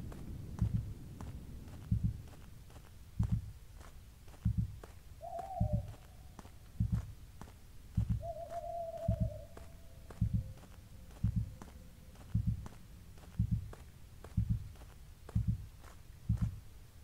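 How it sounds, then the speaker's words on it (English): In an indie horror video game, a slow, steady heartbeat thumps at regular intervals, low and muffled, with a faint eerie tonal drone drifting through the quiet space between beats. "Listening to the heartbeat."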